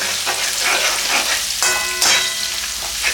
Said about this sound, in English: I'll put the spring onion whites, then onions. Let me give that a quick stir.